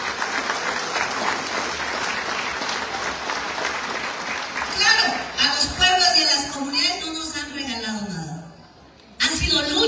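Audience applause for the deputies at a ceremony honoring Indigenous and Afro-Mexican peoples, steady and dense for several seconds, then swelling with cheers and voices before cutting out briefly and resuming.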